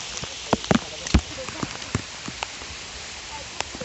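Steady patter of rain falling through forest trees in the Sahyadri hills, with scattered heavier drips tapping nearby at irregular intervals.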